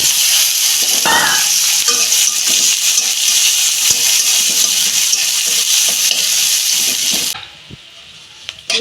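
Onion fries in oil in a pan with a loud, steady sizzle and frequent stirring scrapes, and the sizzle drops away abruptly near the end.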